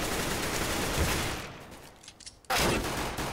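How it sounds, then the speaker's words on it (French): Dense automatic gunfire from a Counter-Strike match on the Cobblestone or Cache map, a sustained rattle of shots that thins out briefly before a loud burst resumes at close range. "Crispy qui va tomber sous les balles de Devil"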